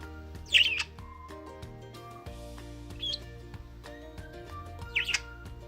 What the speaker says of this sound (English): always starts his mornings in the windows, tweeting away